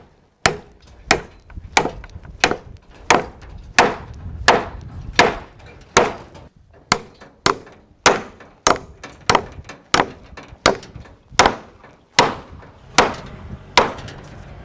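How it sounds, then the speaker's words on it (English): A hammer drives 4-inch 20-penny nails into a large wooden truss in a workshop, landing about twenty loud, evenly spaced blows up close, each one sharp and ringing briefly. "we're gonna drive some of these 4-inch 20 pennies through this way"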